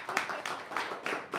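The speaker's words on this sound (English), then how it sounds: "another round of applause for Kendall and Anne" A few people clap at an academic symposium in Bridgetown, producing sparse, distinct hand claps in an uneven rhythm, close and moderately loud, over a brief moment with no voices.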